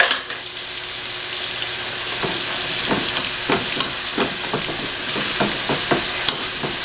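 Cooked pinto beans for refried beans are mashed in a pan with a masher, with repeated soft squelching thumps in an uneven rhythm over a steady background sizzle.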